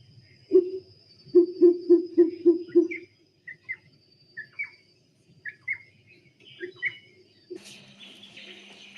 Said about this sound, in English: play an audio here of one of the barking imperial pigeons.